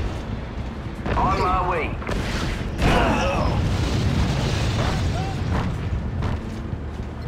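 Deep booming explosions from an enemy air raid in the real-time strategy game Act of War rumble on continuously, with a radio voice talking over them and some beeping game effects.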